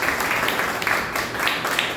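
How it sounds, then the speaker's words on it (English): A short burst of audience applause at a Toastmasters club meeting, brisk clapping from a small group, close and continuous. "So can you all give a big round of applause to Toastmaster Vani?"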